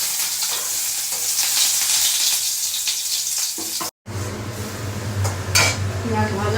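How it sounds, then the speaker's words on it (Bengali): Onions fry in oil with a bay leaf in a pan, giving a dense steady sizzle with stirring scrapes that cuts out briefly, then returns as a lower, quieter hiss. "পেঁয়াজ ভাজা হয়ে গেছে, কাঁচা লঙ্কা, পেঁয়াজ ভাজা হয়ে গেছে।"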